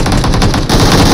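Rapid automatic gunfire from PUBG Mobile rattles out in a loud, dense burst of closely spaced shots, with no talk over it.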